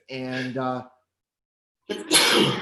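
A single sharp, close sneeze bursts out during a markets discussion, following a short spoken word and a pause.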